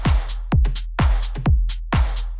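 A punchy electro house beat with booming kicks and bright synth stabs, loud and driving, repeating in a tight rhythm.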